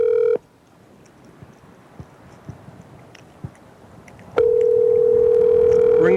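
A telephone call tone sounds loudly and steadily. A short tone opens the clip, a stretch of quiet clicks and faint taps follows, then a long sustained ring-back tone fills the final two seconds.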